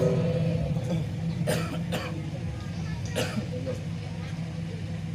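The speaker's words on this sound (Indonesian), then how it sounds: "Ada sedikit gangguan, agak batuk" A male preacher at a religious gathering coughs and clears his throat several times in sharp bursts over a steady hum of room noise.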